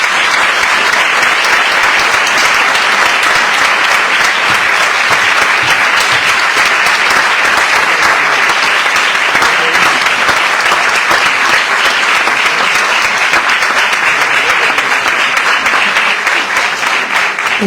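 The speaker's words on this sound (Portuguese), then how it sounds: "Uma salva de palmas, por favor." Sustained, loud applause from a crowd at a book launch marking the centenary of a volunteer firefighters' humanitarian association, dense steady clapping lasting throughout with no break.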